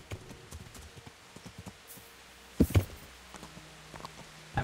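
Horse hooves clip-clopping at a walk in the video game Kingdom Come: Deliverance, a few scattered soft clops then louder thuds near the end, over a quiet background.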